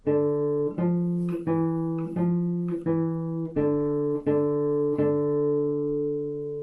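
A short guitar riff of single plucked notes repeats in a steady rhythm, each note ringing briefly, played solo and close.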